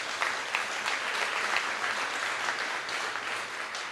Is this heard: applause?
yes